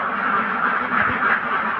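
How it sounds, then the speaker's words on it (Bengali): Ducks on a farm where eggs are being collected, giving a continuous chorus of nasal quacking that is close and fairly loud, overlapping with no pauses. "এই যে আমার ওই সাইডে কিছু হাঁস আছে"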